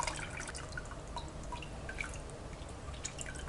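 Water being added to a fish curry base for Tamil nethili meen kuzhambu: light dripping and splashing close by, steady and unbroken through the short stretch, with no talk.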